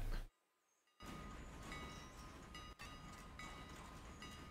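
Steady rumbling of a train running in a video game, a dense broadband roll with faint high tones, after a brief near-silent gap, continuing evenly without talk.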